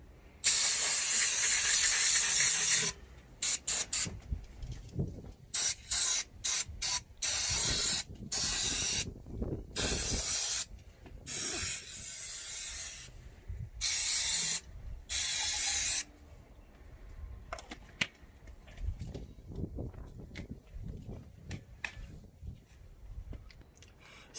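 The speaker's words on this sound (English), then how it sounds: "we're going to use a brake clean, which is really good for going through oil and grease and everything. And we're just going to give some areas a spray" Brake cleaner sprayed from an aerosol can onto engine parts during a Volkswagen Polo engine strip-down, heard as a series of close, loud hissing bursts of varying length, some long and some short, with pauses between them.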